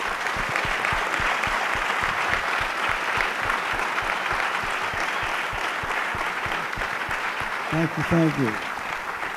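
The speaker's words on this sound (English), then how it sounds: "So I want a special round of applause for Don and all the veterans of World War II." Dense, sustained applause fills a presentation hall as an audience honours World War II veterans; a voice briefly speaks over the clapping near the end.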